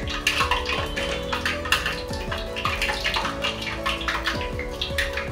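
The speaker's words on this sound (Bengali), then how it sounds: "তেলটা গরম হয়েছে নাকি আমি দেখবো, একটু ছেড়ে আমি দেখবো।" Jalebi batter dropping into hot frying oil sets off a steady, busy sizzle and bubbling, with a few clinks of utensils against the pan; nearby and fairly loud, no talking.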